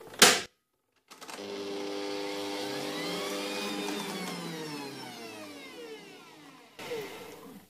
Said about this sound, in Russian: Соединим в чаше миксера яйца, сахар и соль. И взобьем все на высокой скорости в течение 10 минут.